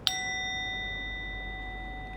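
A mindfulness bell is struck once, giving a bright clear strike that rings on with a long, slowly fading sustained tone in a quiet room.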